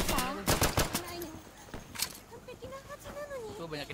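Bursts of gunfire crack sharply in the shooter game Insurgency, a few rapid close volleys early on and more scattered shots later, mixed in with players talking.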